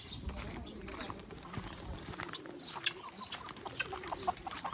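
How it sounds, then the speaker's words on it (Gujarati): Roosters and hens clucking together on a farm that also keeps pigeons and partridges, a busy continuous chorus of clucks and sharper calls nearby, with faint talk underneath. "આ બધા કુકડા"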